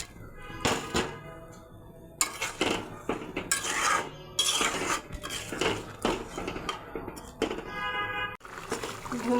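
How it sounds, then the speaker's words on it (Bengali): Fried fish pieces going into a pan of boiling raw-tomato gravy for a spicy fish curry, with repeated clattering of utensils against the pan and bubbling close by. "ঝোলটা ফুটে গেছে, ভেজে রাখা মাছ দিয়ে দেবো।"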